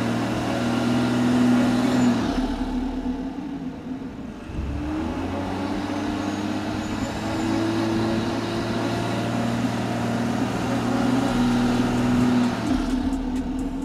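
A BMW X5's engine drones loud and steady off-road as its wheels spin without grip, the pitch climbing and dipping between sustained revs.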